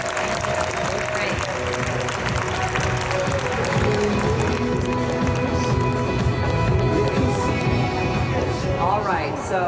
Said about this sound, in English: Everybody give a warm round of applause for Dr. Stern and Linda.